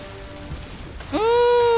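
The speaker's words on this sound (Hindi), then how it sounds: "बारिश आ गई।" Rain falling in the video game Biomutant: a soft hiss of rain patter that swells toward the end, joined by a sustained electronic tone.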